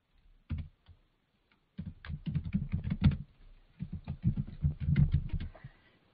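A password is typed on a computer keyboard, close and fairly quiet, a few isolated key taps followed by quick irregular bursts of clicking with short pauses between them, and no voice.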